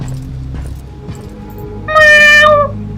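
A single cat meow in the horror game Sinking Iron, loud and harmonic, lasting about half a second near the end, over a low steady game background hum.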